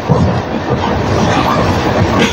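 A local train runs on rails between Dakshineswar and Bidhannagar Road, a loud, close, continuous rumble with rattling wheel and carriage noise throughout and no talking.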